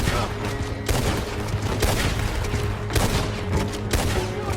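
Dense burst of rapid gunfire in a Red Dead Redemption 2 shootout, loud overlapping shots and booms cracking in quick succession with no pause.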